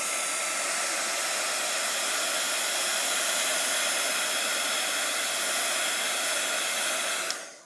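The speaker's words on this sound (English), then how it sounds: "now we're just going to take the heat embossing, the heater," A heat embossing tool blows hot air continuously at close range, a steady loud hiss-like whoosh lasting several seconds before cutting off abruptly at the end.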